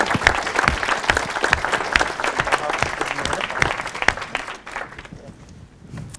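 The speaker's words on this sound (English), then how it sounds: "So let's give them a round of applause." An audience at a research-for-peace gathering gives a loud, continuous round of applause that thins out and fades toward the end.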